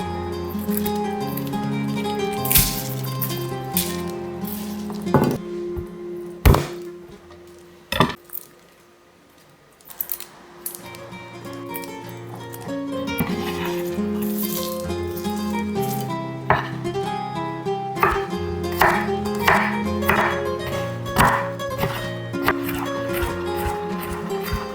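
A knife chops garlic on a board for a bruschetta, giving a steady series of sharp, close wooden knocks in irregular bursts, with a brief pause partway through.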